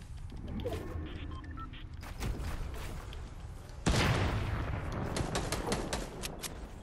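Video game gunfire, with bursts of rapid shots and scattered single cracks at varying distances, forming a busy, layered battle soundscape.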